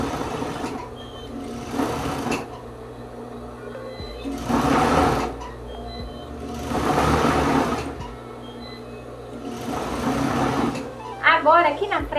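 A sewing machine stitches the hem of a cascade-collar blazer in several bursts of rapid mechanical whirring, separated by short pauses, fairly close and loud.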